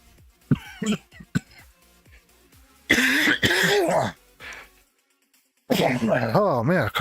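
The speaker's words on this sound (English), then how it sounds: "I cough and I sneeze at the same time" A man coughs and sneezes at once in a few sharp, close bursts near the start, followed by louder voiced exclamations and throaty vocal sounds.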